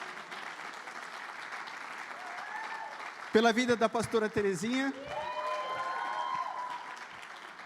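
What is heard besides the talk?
congregation applauding in church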